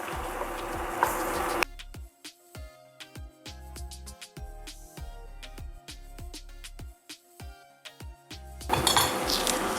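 A spoon mixes mushrooms and peppers into chicken pie filling in a metal pot, giving repeated close scraping and clinking strokes in a steady rhythm, with no talking.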